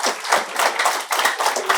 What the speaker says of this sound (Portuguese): Um aplauso, obrigado.